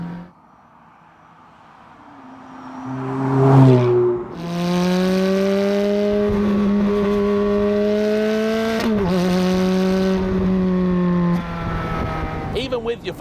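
A 2007 Ferrari F430 Spider engine climbs from idle as the throttle is blipped on a downshift, rising to a sharp rev peak, then settling into a loud, steady high drone with a brief dip midway, heard close and alone.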